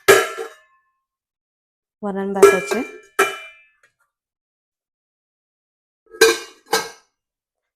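Metal inner vessels of a 3.5-litre pressure cooker clank and ring in a few separate bursts of clattering, with short silences between; someone briefly speaks.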